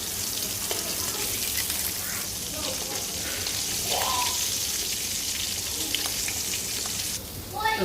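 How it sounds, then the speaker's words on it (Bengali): Steady oil sizzling and crackling from a rohu fish head frying, a continuous close hiss with occasional soft pops and faint background sounds, no talking. "এখন আমি মাথাটা মাছের মাথাটা ভেজে নিব"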